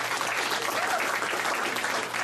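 An audience at a local panel event claps for the caterers who served catfish and grits, a dense, continuous round of applause from a room full of people, moderately loud and even.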